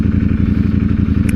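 A Ducati Streetfighter V4S motorcycle riding through heavy traffic, its engine a loud, close, rapid low pulsing throb held steady, with a brief sharp higher tone near the end.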